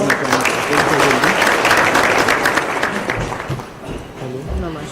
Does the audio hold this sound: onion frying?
no